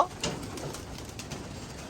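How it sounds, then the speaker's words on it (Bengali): Pigeons in a loft coo softly and steadily, with low murmuring calls repeating throughout and a few brief rustles, moderately close with no talk. "এই যে নিচের পার্টিশনের যে কবুতরগুলো দেখতেছেন আপনারা"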